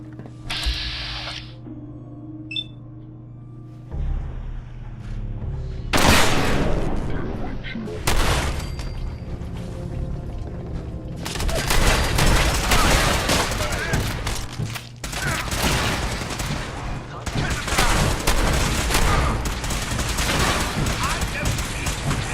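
Gunfire in a Fallout New Vegas firefight: dense, continuous bursts of shots and mechanical clatter fill the second half, after a quieter stretch with a brief electronic tone.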